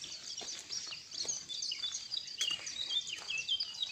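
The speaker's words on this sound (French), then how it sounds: "Je vous partage ce silence rempli de la manifestation des oiseaux" Birds sing and chirp repeatedly outdoors in calm surroundings, many overlapping high tweets at moderate distance, with no voices.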